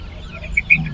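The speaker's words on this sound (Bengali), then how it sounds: "এটা পুলেট, এক মাস বয়স।" One-month-old pullet chickens cluck softly at a poultry market, a few short close calls rising over a low background murmur.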